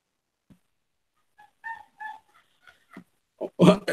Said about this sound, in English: Got my brother's dog in there yapping like a hyena.